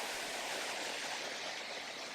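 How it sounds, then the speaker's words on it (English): Steady rushing roar of a waterfall on the Seven Bridges trail in Colorado Springs, a broad continuous splash of falling water heard close and alone with no voices. "here's a waterfall right here to start with."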